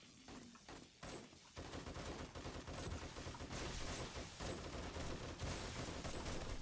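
Rapid, sustained gunfire cuts down zombies in 7 Days to Die, starting with a few scattered bursts, then becoming a loud, continuous volley that keeps going without pause.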